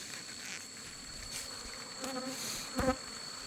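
Bees buzzing around an opened wild hive during a honey harvest, a steady insect drone with a few louder passes close by near the end, no talking.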